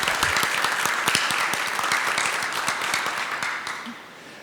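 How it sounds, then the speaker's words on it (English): A round of audience applause for a speaker at a talk on maze-solving algorithms, many hands clapping with distinct sharp claps on top, fairly close, tapering off near the end. "So please, big round of applause."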